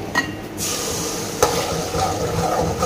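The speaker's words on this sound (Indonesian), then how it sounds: "tunggu nyampe panas minyaknya dan masukkan untuk bumbu yang udah di blender ya" Blended spice paste hits hot oil in a pan with a sharp hiss, then settles into a steady, close sizzle that carries on without talk.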